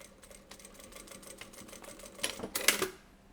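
A home sewing machine tacks straps onto a mask made of sterilization wrap, giving a rapid run of mechanical stitching clicks that builds to a louder, busier burst near the end.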